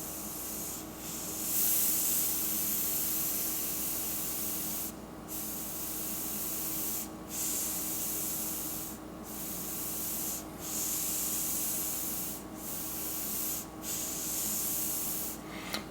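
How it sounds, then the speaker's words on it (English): Single action airbrush spraying paint in short hissing bursts separated by brief pauses, a close, steady airy spray repeated throughout. "See, you can still fade strokes out even with the single action airbrush."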